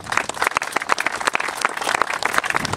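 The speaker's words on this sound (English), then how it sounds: "they deserve a special round of applause for the work that they've done" An outdoor crowd at a Saltire-raising ceremony at Stirling Bridge, Scotland, claps steadily, with dense hand claps heard nearby throughout.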